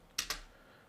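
Computer keyboard keys are tapped twice in quick succession while a track name is typed in music software, close and crisp, then a faint third tap.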